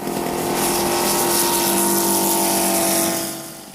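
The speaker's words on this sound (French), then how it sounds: "Il est motorisé par un moteur en étoile 7 cylindres Seidel qui entraîne une hélice Singer 2210." A model airplane powered by a Seidel seven-cylinder radial engine turning a Singer propeller drones loudly and steadily at close range, holding a continuous buzzing roar before fading slightly at the end.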